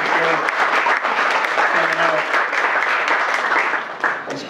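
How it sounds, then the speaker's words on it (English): A crowd at a book talk bursts into sustained applause, dense steady clapping that fills the whole stretch at an even level with no voices breaking through. "A round of applause for yourselves."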